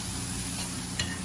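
Onions caramelise in a pan with a continuous, close, dense sizzle and a low background hum, with one brief clink near the end.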